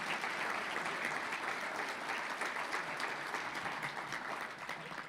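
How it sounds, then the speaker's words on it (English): Applause for hall of fame inductees at an athletics hall of fame dinner fills a banquet hall, steady and moderately distant throughout with no speech over it. "Out of a round of applause for our inductees"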